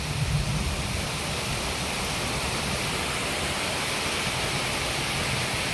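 Heavy rain pours down in a steady, dense roar that holds evenly throughout, with no voices and no breaks in the downpour.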